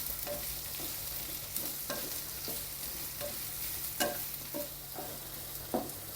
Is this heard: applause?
no